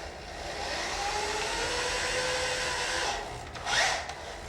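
A power driver runs steadily for about three seconds while sinking a screw into aluminum angle, a close whirring buzz, then stops and gives a short second burst after a brief pause.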